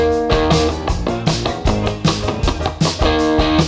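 A brightened electric guitar track with drum bleed leaking through, chords ringing over sharp, regular drum hits that punctuate the loud, steady mix.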